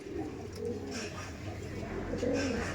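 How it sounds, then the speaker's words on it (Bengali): A male and female pair of pigeons coo steadily at close range, low repeated calls running through the whole stretch over a constant background hum. "তার মধ্যে এটা নর আছে আর ওটা মাদা তাই তো এটা মাদা ওকে ওকে আর এটা নর পায়রা"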